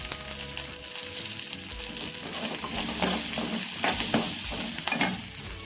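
Shallots and garlic fry in a pan with a loud, continuous sizzle, and stirring strokes come through in the second half.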